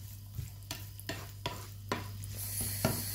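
Food sizzles in a pan while frying briefly for an onion cake, a steady hiss broken by regular stirring scrapes about every half second.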